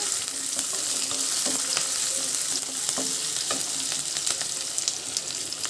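Thin-sliced onions fry in hot oil for a vegetable biryani, a dense steady sizzle with occasional stirring clinks and scrapes throughout.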